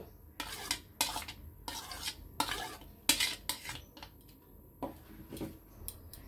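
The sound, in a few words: mixing onion, green chilli, coriander and tomato together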